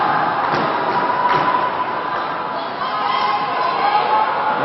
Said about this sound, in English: We can hear them starting their chant.